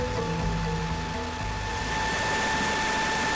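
A twin-engine CH-47 Chinook helicopter's engines give a steady, droning whine with a low rumble underneath, constant and unbroken over a few seconds without any voices.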